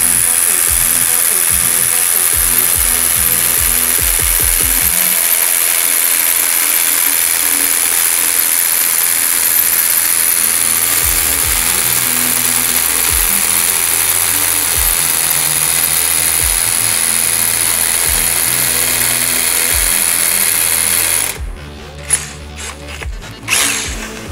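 A Hilti TE 6-A22 cordless rotary hammer drills a 22 mm hole, giving a loud, steady, close hammering whir that runs continuously for about twenty seconds before cutting off, followed by a few rattles.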